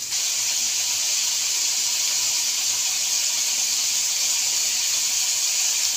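Tomato, green chilli and whole cumin frying lightly in a pan, giving a steady, loud, even sizzling hiss that runs unbroken from start to end.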